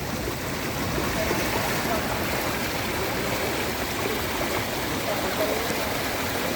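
Rainwater rushes along a stream in a steady, unbroken wash, loud and close throughout with no talking.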